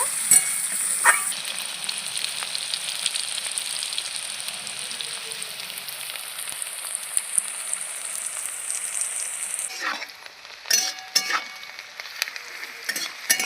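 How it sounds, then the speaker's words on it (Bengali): Steady, close sizzling of onions frying in hot oil until reddened, with occasional scraping stirs and clinks of a spatula, growing choppier near the end. "পেঁয়াজটা একটু লাল করে ভেজে নেব"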